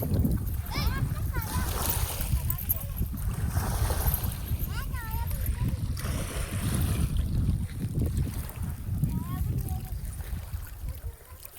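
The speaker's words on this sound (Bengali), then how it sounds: "দেখুন ঢেউ মারছে, দেখো" River waves splash and lap steadily near a boat, with a continuous low rumble of moving water and wind. Faint voices are audible in the background.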